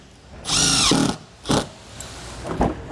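Power drill driving screws through a MaxxFan Deluxe roof vent mounting flange on a 2022 Grand Design Imagine travel trailer roof, one longer whirring burst then two short spins, close and loud.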